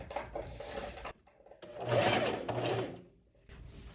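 A sewing machine runs in short bursts while finishing the armhole of a lined tailored vest, its rapid buzzing stitch rising and falling with brief pauses, close and moderately quiet.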